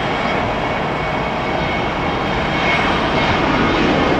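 Airplane approaching to land at LAX, a loud, steady broadband roar of its engines filling the whole stretch without a break, with no voices.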